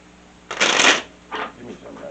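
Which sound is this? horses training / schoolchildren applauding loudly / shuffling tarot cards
shuffling tarot cards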